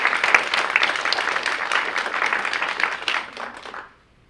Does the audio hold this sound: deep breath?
no